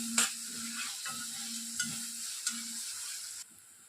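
Onions and green chilies fry in a pan with a soft steady sizzle. A few sharp clinks from stirring punctuate it, close and fairly quiet, with no voices.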